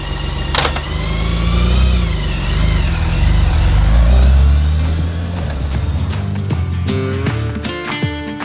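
A motorcycle engine runs steadily while riding, a low, close drone that swells and eases with throttle, then settles toward a rougher idle-like putter near the end.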